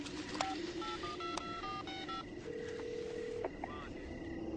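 A telephone is dialed, a quick series of short, clear beeping keypad tones with uneven gaps, heard up close over a low background hum with faint voices.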